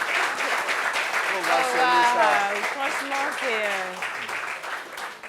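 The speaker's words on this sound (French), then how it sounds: "Il faut qu'on applaudisse pour elle." Applause for a woman at a gathering on overcoming complexes, steady crowd clapping throughout with voices talking and calling out over it.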